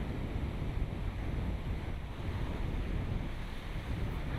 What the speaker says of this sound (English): The cool sea breeze which flows through this area today